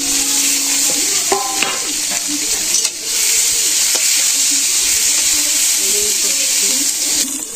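Onions, chilli, ginger paste and garlic paste frying in oil over low heat, a loud continuous sizzle with a few clinks of stirring.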